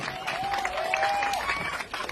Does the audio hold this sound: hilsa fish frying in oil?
no